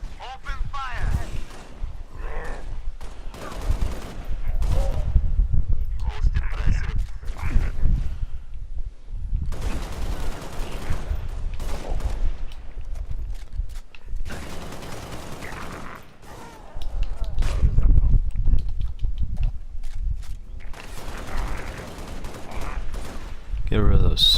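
Halo Reach gunfire comes in repeated bursts of shots and impacts with game effects, broken by quieter gaps, while someone talks over much of the action.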